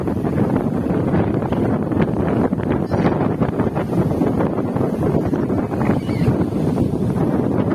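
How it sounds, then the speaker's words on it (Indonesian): Strong, gusty wind at Jatiluhur reservoir roars and buffets the microphone without pause, a loud, dense rumble that fills the whole stretch with no voices. "anginnya sangat besar"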